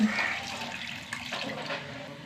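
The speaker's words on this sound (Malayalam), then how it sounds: "കുറച്ചും കൂടി വെള്ളം ഒഴിച്ചു കൊടുക്കാം" Water pours briefly into a curry pot with a soft, steady splashing that fades over about two seconds, fairly quiet and alone.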